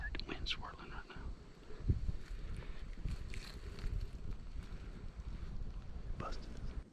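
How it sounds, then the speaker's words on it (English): Wind swirling across open salt grass on Florida public land during a bow hunt, a steady rushing roar with gusty buffeting against the microphone, with faint whispered voices now and then. "I can't believe how bad the wind's swirling right now."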